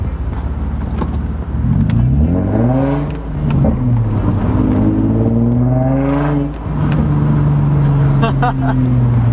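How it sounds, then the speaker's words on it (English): An Infiniti G35 with a budget aftermarket exhaust while driving, rising through two strong accelerations with climbing engine tones and a brief drop between gears, then a steady drone; loud and close. "This is my exhaust in car driving, and it could be pretty quiet."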